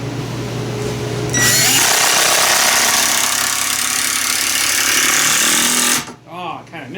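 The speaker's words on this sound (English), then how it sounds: "Sharpening blades." Power tool sharpening saw blades, a loud harsh grinding whine that starts abruptly, runs steadily for about five seconds, then cuts off, close up with brief talk around it.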